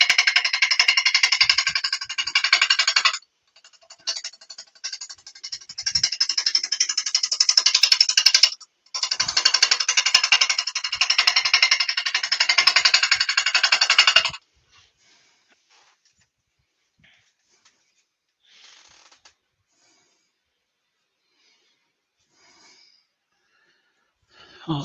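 A wood lathe turns a four-sided timber vase while a gouge cuts into the spinning corners. Rough, gritty cutting noise comes in loud, choppy bursts for about fourteen seconds, then gives way to near quiet with only faint scrapes.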